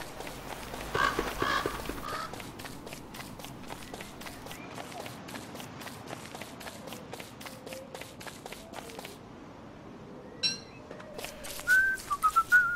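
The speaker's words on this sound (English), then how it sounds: "Don't whistle." Whistling in the survival game Don't Starve Together, a run of short, sharp whistle notes over soft footstep-like game sounds, rising louder near the end.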